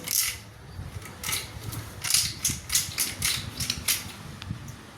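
Fresh coconut being grated by hand makes quick, rhythmic scraping strokes, about a dozen crisp rasps close by with short pauses between them.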